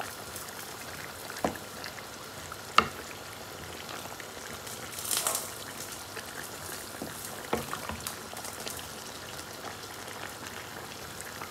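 Broiler chicken sautéed with spices in a pan for a bottle gourd curry gives a soft, low crackle under scattered clicks and taps of stirring, with a brief louder hiss midway.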